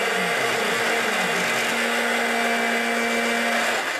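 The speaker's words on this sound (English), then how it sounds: "we're gonna grind for 40 seconds" An electric grinder whirs loudly with its blades spinning, a steady high-pitched motor drone holding evenly from start to finish with no talking over it.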